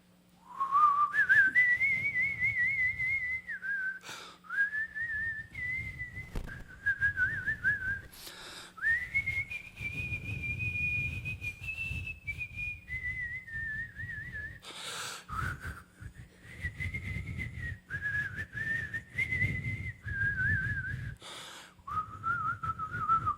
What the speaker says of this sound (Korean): 내가 목소리로 부르면은 목이 쉬니까 휘파람으로